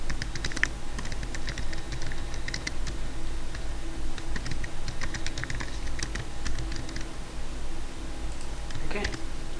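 Rapid clicking of computer keys as billing details are typed in, steady and close, with brief pauses and a faint background hum.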